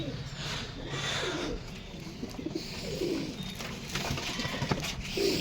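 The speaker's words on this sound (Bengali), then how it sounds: "দুটো পায়রা জোড়া পাগল হয়ে গেছে বন্ধুরা আর প্রচণ্ড জ্বালাচ্ছে" Pigeons in a home loft coo steadily, several rolling calls overlapping close by amid a constant background hum, with no one talking.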